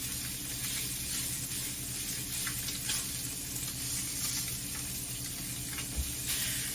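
Continuous sizzle of rainbow trout skin searing in a hot pan, a dense crackling hiss with a faint low hum beneath and a small clink near the end.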